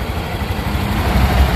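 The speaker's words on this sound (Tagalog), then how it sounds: "Normal pag start talagang malakas yung tunog ng makina niya." A Honda Click 125 V3 scooter engine idles steadily nearby after a cold start, a constant low rumbling putter with no talking.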